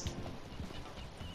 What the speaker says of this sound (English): that's Jonathan's horse